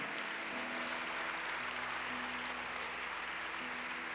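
A church congregation applauds during a sermon: a quiet, steady wash of clapping holds from start to finish, with a faint low hum underneath.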